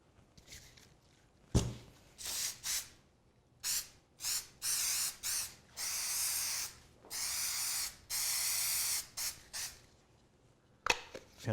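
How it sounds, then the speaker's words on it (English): A can of Super 77 spray adhesive hisses onto plywood and a template in a workshop, about a dozen sharp bursts of varying length separated by short silences, close and fairly loud. "I'm going to spray some Super 77 on both the template and the plywood."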